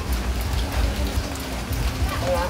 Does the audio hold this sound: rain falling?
yes